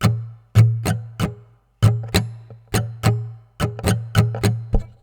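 Steady acoustic guitar strumming, bright down and up strokes in an even rhythm, each chord ringing briefly before the next, played close and alone.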